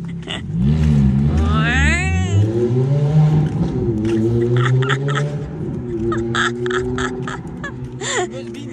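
A blue Ferrari sports car in Antibes on the Côte d'Azur gives off a steady, rising and falling engine drone that runs throughout, with people's voices and brief bird-like calls over it.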